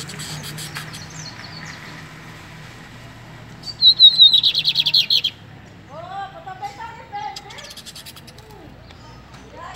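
A caged lined seedeater (bigodeiro) sings nearby, first a bright buzzy trill, then a run of varied whistled phrases, with faint background noise.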